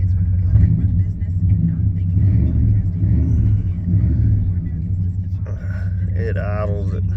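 An old 1994 GMC truck engine idles with a low, steady rumble, heard from close by while someone talks over it.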